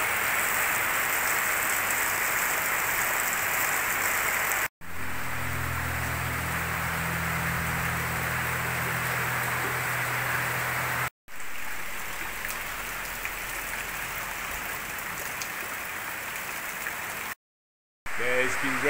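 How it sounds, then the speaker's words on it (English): Heavy rain pours down steadily around a house in Zamboanga del Norte, Philippines, a dense, even hiss that is interrupted by a few abrupt short cuts. "So much rain."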